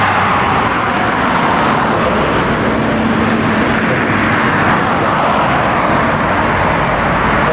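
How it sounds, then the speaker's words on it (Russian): Heavy traffic of cars and large trucks crossing the new bridge in Barnaul, three lanes each way, forms a loud, continuous roar of engines and tires with no pauses throughout. "На каждом направлении трехрядное движение, это даже видно как."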